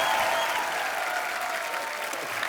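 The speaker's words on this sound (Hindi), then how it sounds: "आप सबकी जोरदार तालियों के बीच" Steady applause from a studio audience on a television comedy talk show, welcoming a guest onto the stage; dense, continuous clapping fills the whole stretch without any speech over it.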